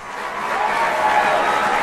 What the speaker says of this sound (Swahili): jipigie makofi kwanza